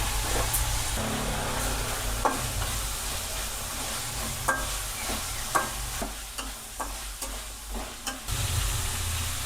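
Garlic and ginger sizzle in a hot pan for a soyabean and egg dish, with a steady fry hiss broken by scattered scrapes and taps of a stirring spoon.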